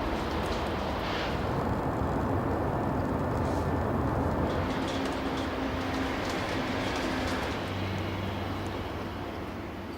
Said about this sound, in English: This new railroad car is about to come into service.